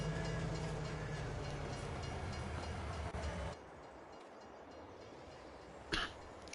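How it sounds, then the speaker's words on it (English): A train passes in the Farming Simulator 22 video game as a broad, steady rumble with faint rail clatter that suddenly cuts to quieter background. A brief bump follows near the end, and no one talks. "caught that train just in time"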